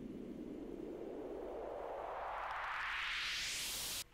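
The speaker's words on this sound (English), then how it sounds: "Up here I have white noise." White noise sweep used as a transition effect in a music mix, rising steadily in pitch over about four seconds, loud and alone, then cutting off abruptly at the end.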